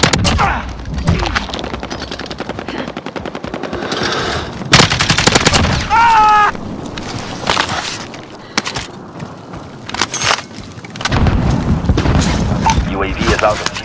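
Rapid bursts of automatic gunfire and booming shots crackle through a Warzone match, some close and loud, others farther off, mixed with thuds and footsteps while a player talks over the chaos.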